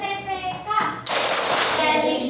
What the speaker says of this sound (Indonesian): kita tepuk PPK dulu